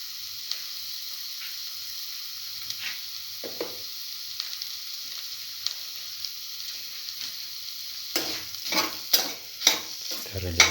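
Eggplant filling with salt is quietly stirred at first, then several louder, closely spaced scraping and mixing strokes come near the end with a soft sizzle underneath.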